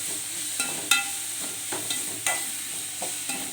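Onions sautéing in a pan with dried red chillies, green chillies, ginger and garlic make a constant soft sizzle, marked by light, regularly spaced scrapes of a stirring spoon.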